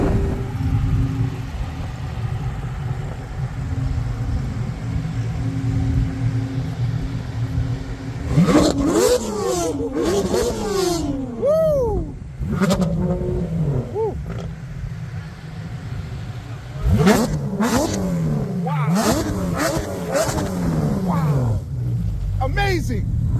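A twin turbo Corvette and a new Porsche GT3 RS rev their engines, with repeated sharp upward sweeps in two bursts over a continuous background rumble of traffic, heard from nearby.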